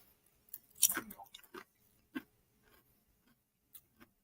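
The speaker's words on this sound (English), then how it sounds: "They've got a really nice crunch to them." Crunching bites of Jack 'n Jill Piattos cheese crisps, thick potato crisps from the Philippines, close to the mic: a loud cluster of crunchy chews, then a few sharper scattered crunches with quiet pauses between.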